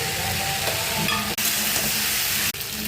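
Prawns go into a hot pan of fried vegetables and mustard and keep up a dense, continuous sizzle, broken by two brief dips where the pan is stirred; no voices.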